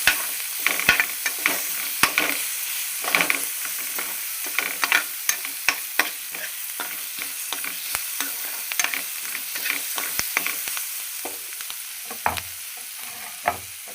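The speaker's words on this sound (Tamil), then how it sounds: "இது நல்லா பச்சை வாசனை போட்டு வதக்கிக்கலாம்." Ginger garlic paste sautéing in a pan for a cauliflower chicken gravy, with steady loud frying sizzle and frequent scraping, clinking stirs throughout, no talking.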